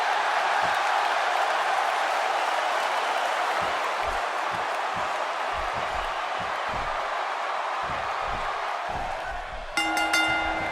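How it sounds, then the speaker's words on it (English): Arena crowd in a WWE 2K16 wrestling video game match cheers and roars in a steady, loud wash of noise, with a few brief sharp bursts and a short tonal chime near the end. "listening to the reaction this guy gets from a crowd never gets old"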